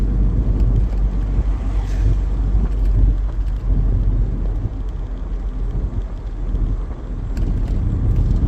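Turbocharged 2003 Mazda MX-5 Miata engine drones loud and steady from close by, a continuous low rumble with wind buffeting and slight swells in intensity.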